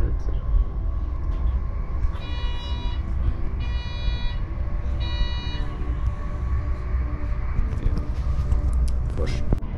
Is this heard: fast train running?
yes